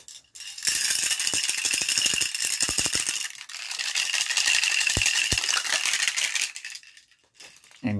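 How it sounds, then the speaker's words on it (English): A rattle shaken hard in steady bursts during a doctor's hearing exam, a dense clattering that stops briefly around midway and again near the end, close and fairly loud. "The rattling"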